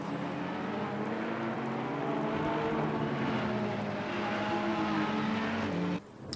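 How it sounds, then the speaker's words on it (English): Yellow Ferrari and Porsche GT race cars in a video game at Paul Ricard roar past together, layered engine tones rising and shifting before cutting off abruptly near the end. "Yellow Ferrari overtakes yellow Porsche."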